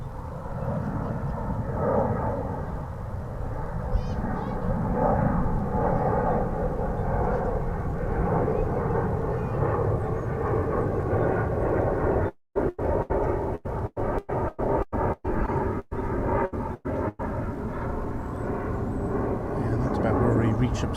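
American Airlines passenger jet departing DFW Airport roars steadily through most of the span, a loud, broad rumble heard from an outdoor viewing area, with a voice talking over it and the sound cutting out in brief gaps near the end.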